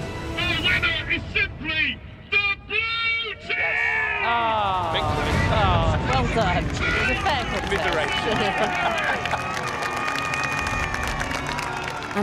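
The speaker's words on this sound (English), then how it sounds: "the full troop of 30 Roman cavalry riders gallops past in unison" A troop of 30 Roman cavalry horses gallops past in unison at a Hadrian's Wall display, hooves drumming beneath a loud crowd that cheers, applauds and shouts throughout.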